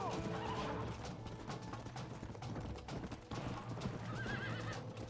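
A horse in a video game clip-clops along at speed with a whinny, hoofbeats steady and fairly quiet under game music and background noise.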